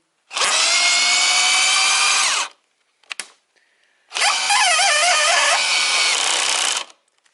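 A cordless power screwdriver, converted from Ni-Cd to Li-ion batteries, whirs loudly up close in two sustained bursts while driving screws. Its pitch shifts in the second burst, and a brief click falls between the two runs.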